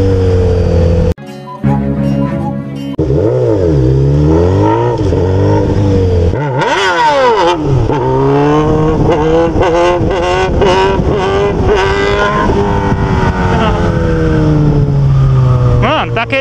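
A Honda Hornet motorcycle with a straight-pipe exhaust revs hard on a street, loud and close, its raw engine note repeatedly rising and falling in pitch through throttle blips and sustained high-rev pulls.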